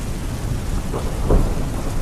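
Steady heavy rain hisses continuously while a low thunder rumble swells briefly near the middle; no voices are heard.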